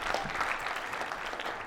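Audience applause at a children's book awards ceremony in Shropshire, steady dense clapping from a crowd filling the room throughout, with no break.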